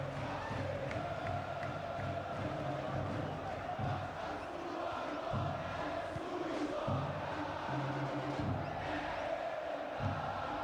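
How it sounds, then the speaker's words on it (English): Stadium crowd in the EA Sports FC 26 video game during a Copa do Brasil match roars and chants continuously, a dense, steady wall of cheering and whoops that swells now and then across the whole stretch. "Well, just listen to this crowd. They want a bit more."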